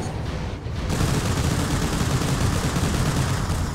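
Sustained dense enemy gunfire in the Mobile Suit Gundam: Crossfire video game, a continuous loud roar of rapid shots and blasts filling the whole stretch without a break.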